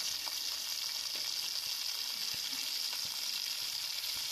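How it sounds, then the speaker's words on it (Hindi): Capsicum and onion hiss loudly in two tablespoons of hot oil, a dense unbroken sizzle with faint ticks of bubbling throughout. "ये 2 टेबल स्पून मैंने ऑयल ले लिया था और इसमें मैंने शिमला मिर्च और प्याज जो है वो इकट्ठे ही डाल दिए।"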